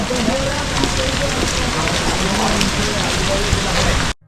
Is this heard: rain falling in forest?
yes